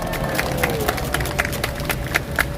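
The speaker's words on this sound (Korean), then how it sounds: "옆에 계신 자랑스러운 애국자들을 향해 박수 한번 보내주십시오." An audience at a political rally applauds, a dense patter of claps over steady crowd noise, with a faint sustained tone running through it.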